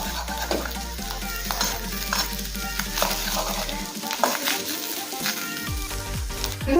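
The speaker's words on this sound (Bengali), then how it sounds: "এখন একদম ছোট ছোট টুকরো করে ডিমটা আমি ভেজে নিয়েছি" Small cut pieces of fish roe sizzle in a kadai while a spatula stirs and scrapes them, giving bursts of crackle and clatter over a steady frying hiss.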